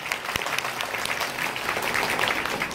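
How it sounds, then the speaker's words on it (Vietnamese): Steady applause from a crowd, dense clapping filling the whole stretch at an even level. "tiếng vỗ tay sẽ là câu trả lời"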